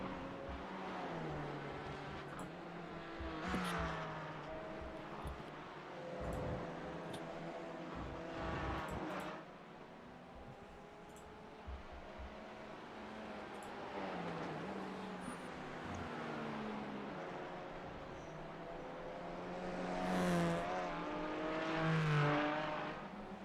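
A GT4/TCR race car in a sim racing game is flung hard around the Charlotte Roval, its engine rising and falling in repeated revving surges through the turns, loud and close.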